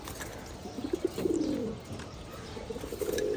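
Domestic pigeons coo softly nearby while feeding, a series of low, rolling throaty coos in uneven bursts with faint rustling between them, no talk.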